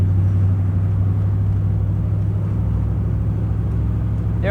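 Car accelerating hard in second gear, a loud, steady engine rumble and drone heard from inside the vehicle, unbroken for several seconds.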